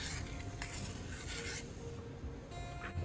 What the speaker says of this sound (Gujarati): આ રીતે આપણે દૂધમાં ખાંડને એકદમ સરસ રીતે મિક્સ કરી લઈશું